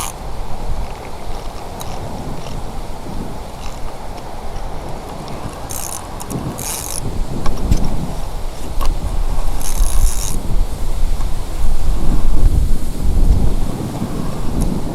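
Strong wind buffets the microphone beside a pond during a catfish and carp fishing trip, a continuous roaring rumble that swells louder in the second half with gusty surges and some higher rushing bursts.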